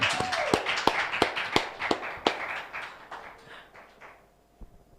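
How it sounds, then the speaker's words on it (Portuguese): Audience applause at an evening event during a festival, a burst of sharp, fairly close claps that thins out and fades after a few seconds. "Aplauso para Mr. Johnny Angelica."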